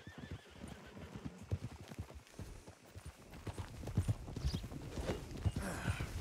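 Horses in the video game Red Dead Redemption 2 clip-clop along with uneven hoof strikes and break into loud whinnies near the end, close and clear with no talking.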